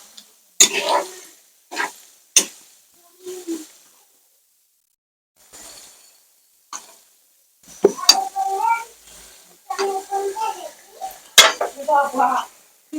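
Water is poured into a frying Bengali fish curry base, bringing sharp bursts of sizzle, then pan clatter and stirring in uneven bouts.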